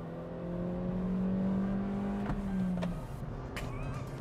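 A 2021 Kia Picanto GT-Line with a three-cylinder turbocharged engine accelerating hard from 0 to 100 km/h, with a steady rising engine drone heard from inside the cabin, then a gear change and easing revs.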